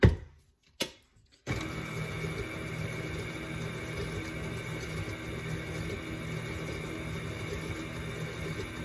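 Gingerbread cookie dough is mixed with a mechanical mixer that runs as a steady, close whir after a couple of brief bursts at the start.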